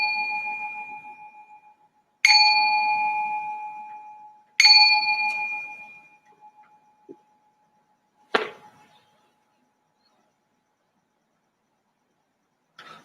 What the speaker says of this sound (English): I'm going to ring this bell to signal the start of the meditation